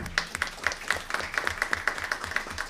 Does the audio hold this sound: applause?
yes